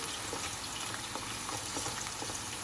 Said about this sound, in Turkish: patatesleri, patlıcanları, kabağımızı ve biberimizi küp küp doğrayıp kızartacağız